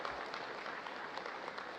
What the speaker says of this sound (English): A well-deserved round of applause for the outgoing Chief of Staff, General Andres Castor Centino.